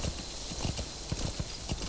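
Horse hooves clip-clop in a steady, even rhythm as a horse moves along in the video game Metal Gear Solid V: The Phantom Pain, the footfalls clear and continuous throughout.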